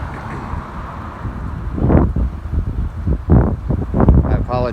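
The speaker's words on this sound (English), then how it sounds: "I apologize for the wind" Gusty outdoor wind buffets the microphone at a roadside accident scene, with strong rumbling bursts around two, three and four seconds over a constant windy roar.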